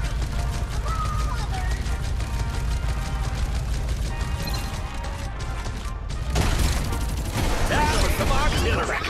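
Video game Farlight 84 gunfire in a dense, continuous barrage of rapid shots mixed with mechanical clatter and in-game voice lines, loud and close throughout.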